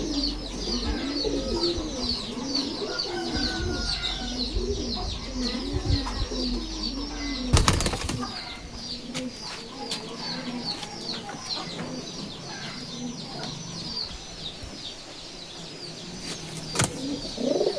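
Giribaz pigeons in a loft coo continuously in rolling, throaty phrases, with several birds overlapping nearby, a brief loud flutter or knock midway and faint background voices.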